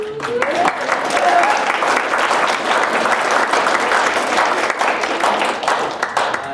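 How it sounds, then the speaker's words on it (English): An audience claps steadily at an art ambassador capstone presentation, a full, continuous round of applause building quickly after a brief voice at the start and holding throughout. "yeah, you can clap."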